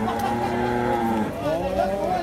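Cows at a livestock market low in long, drawn-out moos, one after another, close by against a murmur of background activity.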